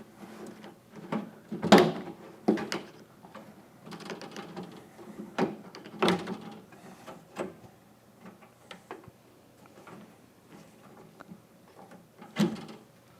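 Plastic belt weatherstrip clips on a Ford Bronco door being pried free with an installation tool give sharp close clicks and snaps, a few louder pops among lighter scraping and handling noises, with no talking.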